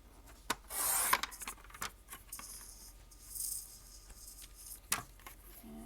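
A notecard edge gets a quick trim, heard as a few soft, close rasping slides of a paper trimmer blade with light taps and handling noises between them.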